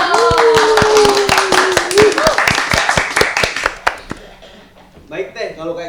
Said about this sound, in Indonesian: kasih tepuk tangannya dulu dong